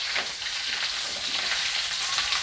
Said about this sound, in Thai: เสียงกระทะเสียงน้ำมัน